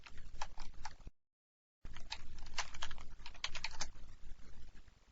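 Close, soft keyboard clicks come in quick uneven bursts as a command is typed on a computer keyboard, with one short silent gap partway through.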